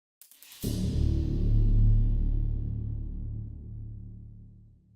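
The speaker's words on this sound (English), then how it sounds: "so I created a short stinger that sounds like this." A short video game music stinger: a few quick plucked notes lead into a full, sustained musical chord that swells and then slowly fades out over several seconds.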